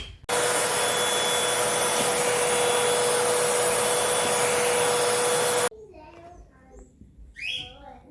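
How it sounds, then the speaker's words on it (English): A vacuum cleaner hose sucking debris from a car interior roars loud and steady with a sharp whine for about five seconds, then cuts off abruptly into quiet rustling and faint sounds. "the way that I clean that is I just take my vacuum hose and suck"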